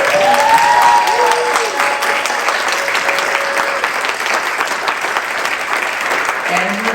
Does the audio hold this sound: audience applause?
yes